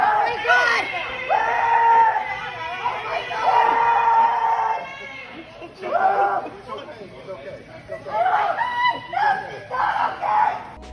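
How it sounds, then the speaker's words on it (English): A large crowd of customers and employees shouts and yells during a dogfight inside a Home Depot store, with loud, agitated voices rising and falling in bursts throughout, close and chaotic. "we can see a large crowd of customers and employees attempting to pull apart the two dogs"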